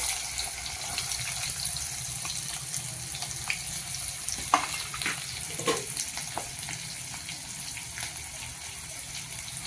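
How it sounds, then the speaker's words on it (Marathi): Finely chopped onions fry in a pan with curry leaves, a steady soft sizzle running throughout with occasional clinks and stirring scrapes near the middle, fairly quiet and with no talking. "कांदा चांगला परतून घ्यायचा"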